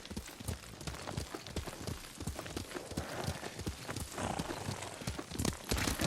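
Horse hooves clip-clop in a quick, steady rhythm as a rider travels on horseback in Ghost of Tsushima. The hoofbeats sound close and fairly faint, running continuously under a soft ambient bed with no voices.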